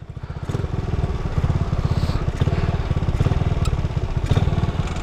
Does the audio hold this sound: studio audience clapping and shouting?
no